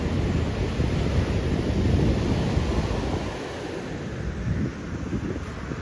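Ocean surf at Varkala Beach in Kerala, a continuous dense roar of breaking waves mixed with gusty wind buffeting the microphone, steady and loud throughout.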